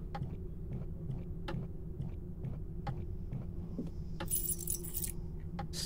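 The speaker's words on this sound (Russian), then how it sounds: "Ни один из ключей не подходит." Keys jangle and rattle in a locked door's lock in the video game The Black Mirror 3, with repeated sharp metallic clicks over a low, steady ambient drone and a brief brighter metallic scrape near the end.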